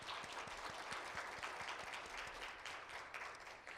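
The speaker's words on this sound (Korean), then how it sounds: "여러분 다시 한번 뜨거운 박수 부탁드리겠습니다." An audience at an intellectual property symposium gives warm applause, a dense, steady patter of many hands clapping for several seconds in a hall.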